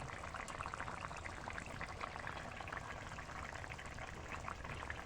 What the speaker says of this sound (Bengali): 10 মিনিট ভালোভাবে ফুটিয়ে নিয়ে আলু সিদ্ধ হয়ে গেলে